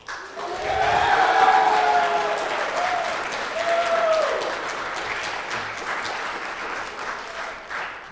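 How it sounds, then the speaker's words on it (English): Applause from attendees at a village council meeting honoring a pool manager, many hands clapping loudly and steadily in a room, swelling after a brief start and slowly thinning toward the end, with a faint voice or two mixed in. "You got a lot of applause coming"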